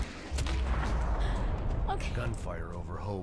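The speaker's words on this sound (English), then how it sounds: "Gunfire over Hoboken." Gunfire in the video game Max Payne 3, heard as dense, continuous low booming shots with a voice talking over the battle throughout.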